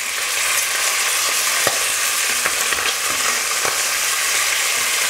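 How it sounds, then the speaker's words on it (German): Meat for a bock beer goulash sears in a hot pan with a steady, close, loud sizzle and crackle, with a few sharp pops and the scrape of it being turned, and no voices. "Wir sehen, dass wir die anderen Seiten auch schön anbraten."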